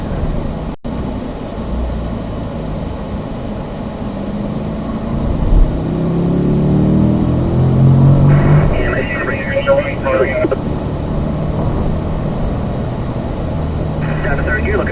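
A Corvette lapping a race track, its engine droning steadily from inside the cabin, with a brief rise in revs partway through and an instructor talking over it throughout.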